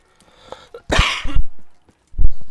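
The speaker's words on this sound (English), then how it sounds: "Ah, cough." A loud, harsh cough close by, followed by a throat-clearing grunt and another short cough burst after a pause.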